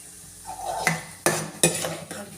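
Dry vermicelli with urad dal and chana dal roasting in a pan for upma, stirred with a metal spoon; a few sharp scrapes and clinks against the pan ring out over a quiet low background.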